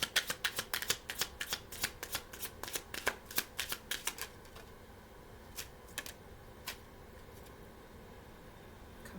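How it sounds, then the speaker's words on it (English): Kipper fortune-telling cards being shuffled during a tarot reading, a close, rapid run of crisp riffling flicks that slows to a few scattered snaps and then stops, with no talk. "let me pull some Kipper cards"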